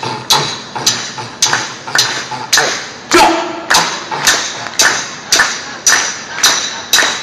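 A crowd at an Extinction Rebellion Global Day for Climate Justice rally claps in a steady beat, about a dozen loud, even claps landing close together, with faint voices underneath.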